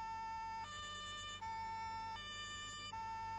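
Police car sirens wail in the Autobahn Police Simulator 3 video game, a steady two-tone electronic siren alternating pitch several times and running continuously and loud with no talk.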